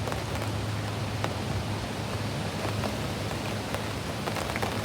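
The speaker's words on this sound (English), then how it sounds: "it looks like the weather's changed. A bit rainy." Steady rain falls outdoors at a fishing lake, an even, dense hiss of drops with no let-up and nothing else standing out.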